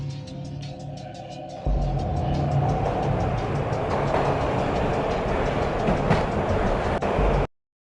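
A train ride in the video game Max Payne on PS2: a low rolling rumble starts abruptly and carries on steadily with a rhythmic clickety-clack of wheels, then cuts off suddenly at the end.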